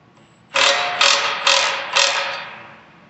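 A wrench ratchets as a nylock nut is tightened on a sawmill sun shield, four close, crisp clicking bursts in an even rhythm that fade at the end.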